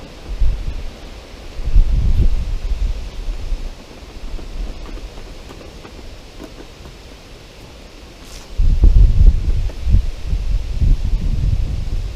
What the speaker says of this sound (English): It is windy today, as you can hear.